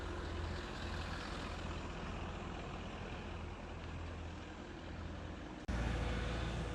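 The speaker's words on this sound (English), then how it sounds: "I'm gonna try to pull the truck forward and see what happens." A truck being pulled forward during an attempted recovery, its engine a steady low rumble that holds level, then jumps abruptly louder near the end as the effort increases.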